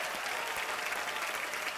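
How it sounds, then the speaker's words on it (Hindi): A television comedy studio audience breaks into loud, dense applause, a continuous wash of many hands clapping close by for a brief moment, with no talk on top. "सर के लिए एक बार जोरदार तालियां हो जाए"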